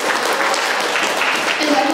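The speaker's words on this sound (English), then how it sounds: "But just a round of applause for them." Convention panel audience claps for the guests, a brief steady burst of applause filling the room, with a faint voice under it.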